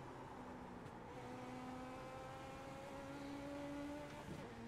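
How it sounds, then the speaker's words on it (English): Legends Ford Coupe engine in iRacing, a steady droning note holding under continuous race-car noise, with a pitch drop from a downshift partway through and no talk. "Every corner I am shifting down into second, and then every exit I'm shifting up into third."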